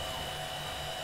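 A one-use server fan with very good ball bearings, mounted in a 3D-printed Prusa cooling fan holder, runs with a steady, close whirring hum and a faint tonal whine, constant throughout with no talking.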